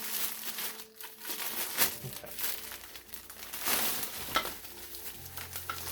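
Cardboard and plastic wrapping on a boxed NEO office chair crinkle, rustle and tear as the package is cut open and unwrapped, a steady close crackling with a few sharper rips.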